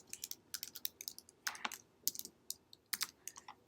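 Fingers tap out quick, irregular bursts on a computer keyboard, close and fairly quiet, with brief pauses between clusters of keystrokes and no talking.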